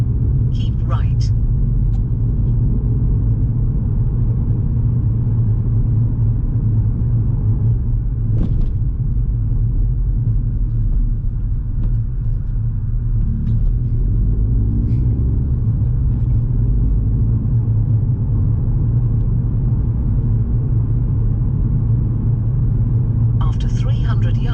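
A car driving along a road during a mock driving test, a steady low rumble of engine and tyre noise from inside the cabin, continuous throughout, with a voice speaking over it.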